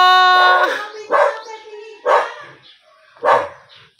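A dog barks four times in a sharp, evenly spaced series, the first bark the loudest and the rest following about a second apart, with quiet gaps between them.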